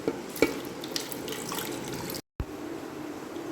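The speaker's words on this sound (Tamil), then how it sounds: "தண்ணி இதிலேயே ஆட் பண்ணிடலாம்" Water runs and splashes into a cooking pot of sambar for a couple of seconds, cuts out briefly, then a softer steady stream continues; no talking.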